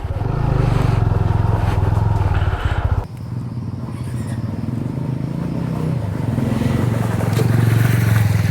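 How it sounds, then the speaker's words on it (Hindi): Motorcycle engine idling after a cold start before a ride from Corbett Tiger Reserve, a loud, steady close-up throb that briefly dips and then resumes its even idle. "बाइक भी कोल्ड स्टार्ट हो गई है."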